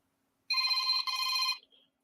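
A telephone rings in two bursts, loud and close against silence, the second trailing off into a faint beep.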